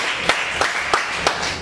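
Sparse clapping from a small audience at a coaching session for young leaders at a school in Dakar, five distinct, evenly spaced claps rather than full applause.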